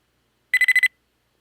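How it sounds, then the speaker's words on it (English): Game sound design for a spider robot waking up: four quick, bright electronic alert beeps in a tight even burst, clean and isolated against silence. "a little couple of beeps as it wakes up"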